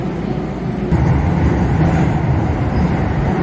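Inside a Keio Line train leaving Shinjuku on a sharp, nearly 90-degree curve, a loud, steady low rumble of wheels and motors swells slightly partway through and carries on continuously, with no voices.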